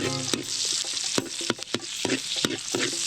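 Onion and garlic sauté in a hot pan, with a bright continuous sizzle broken by quick clattering stirs and utensil taps, close up and without talk.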